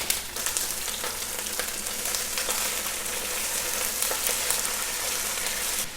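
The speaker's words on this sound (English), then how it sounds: "So now I'm just dumping our onions, our peppers, and our garlic." Onions, peppers and garlic fry in a hot pot for a Basque axoa stew, giving a steady, dense sizzle with crackling pops that runs unbroken throughout, close and fairly loud with no talking.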